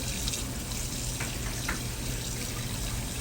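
Tap water runs steadily into a sink while a scorpion fish is rinsed to remove loose scales, a continuous faint splashing hiss with a few brief sharper splashes.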